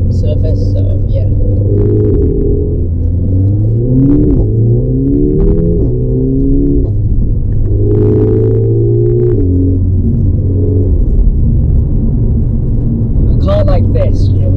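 A Mercedes CLA 45 AMG launches on a damp road, its engine droning louder and rising in pitch through several quick gear changes, a continuous humming rumble heard up close.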